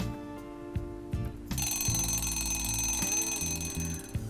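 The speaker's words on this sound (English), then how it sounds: "We wake up in the morning at the sound of the alarm." An alarm clock rings loudly and continuously, a bright electronic tone with steady repeating pulses that comes in sharply partway through and keeps going to the end, with no voices.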